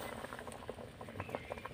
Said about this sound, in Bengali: পটেটো বলগুলি কত সুন্দর সেদ্ধ হয়ে গেছে, উপরে ভেসে উঠেছে